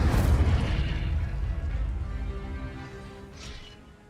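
A fire spell cast in the Hogwarts Legacy video game lets out a loud, booming whoosh that trails off over several seconds into a rumbling fade, with a brief fainter burst near the end.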